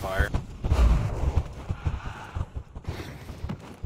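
Gunfire and combat clatter erupt in the online role-playing game Black Desert Online during a harpy fight, with several sharp booming shots and thuds close by, mixed under players talking.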